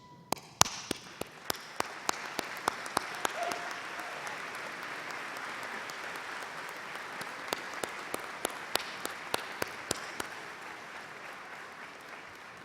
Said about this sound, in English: why don't we stand and give your teammates a round of applause?